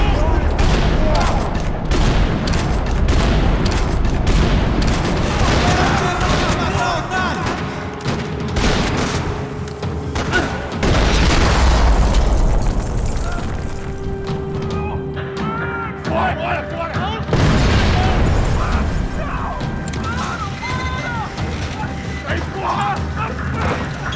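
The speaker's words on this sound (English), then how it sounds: "Another parking lot rattling with gunfire." Gunfire and explosions in the Max Payne 3 video game, a parking-lot shootout with dense rattling bursts and booms, loud and continuous, with game dialogue and music mixed in.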